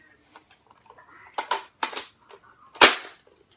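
A child's toy cap gun fires several sharp snapping cracks, irregularly spaced and fairly close, with the last shot loudest, in an otherwise quiet indoor room.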